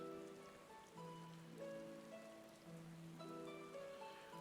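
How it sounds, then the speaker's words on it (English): Rain falls in the Final Fantasy XIV game world as a soft, steady patter, fairly quiet, with some faint sustained tones playing beneath it. "It's raining in game, raining where I am."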